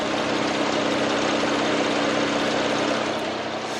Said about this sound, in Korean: 차량 엔진 소음 먼저 들려드리면은